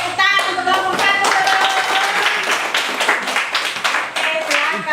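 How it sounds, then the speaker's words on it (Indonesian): A class of students in an Indonesian classroom breaks into dense, continuous hand clapping, close and lively, with voices mixed in throughout. "Kita tepuk tangan untuk kelompok 1."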